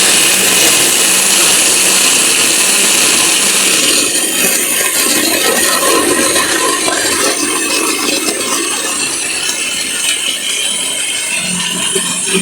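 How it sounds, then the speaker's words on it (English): A kitchen blender whirs steadily as it purees vegetables into a smoothie, a loud continuous motor roar with no talking that shifts in tone partway through as the contents churn. "And then the blender."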